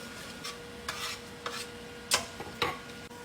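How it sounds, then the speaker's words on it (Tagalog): Sautéing in a pan before the pork goes in: a soft sizzle with several sharp scrapes of a spatula or spoon against the pan, close and brief, spaced about half a second apart. "Nagigisa na siya."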